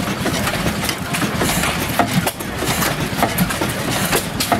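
A 25 HP Black Bear oil field engine running on display at a gas-up show, a steady close mechanical chugging with rhythmic clicks and knocks over a constant drone and outdoor background.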